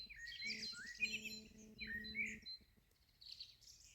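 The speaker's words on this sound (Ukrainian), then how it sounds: "ви тільки послухайте, як співають пташки." Several birds chirp and trill in quick bursts on a quiet evening, bright and fairly close, with a steady low hum underneath; the calls pause briefly then resume.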